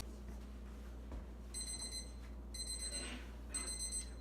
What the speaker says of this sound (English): Well, timer just went off.